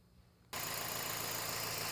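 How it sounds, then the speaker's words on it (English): A Scion xB engine starts abruptly after a short quiet moment and settles into a steady, loud idle while warming up, close by and alone with no talking. "I'm going to go ahead and crank it up and just let it warm up"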